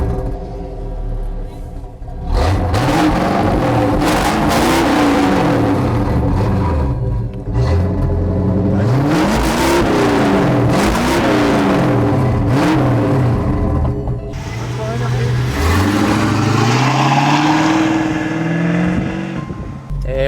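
Pontiac Firebird V8 through a Flowmaster exhaust, close and loud, rumbling at idle and revving up in repeated rising and falling sweeps, with a few voices speaking over it.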